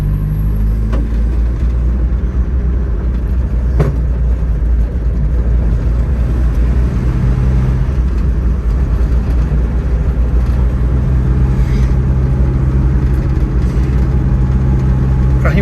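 A Ford Corcel drives in third gear through low curves, its engine giving a steady mid-pitched hum with a low drone throughout, recorded from inside the car.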